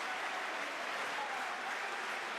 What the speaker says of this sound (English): Borisov goes out, the applause of the crowd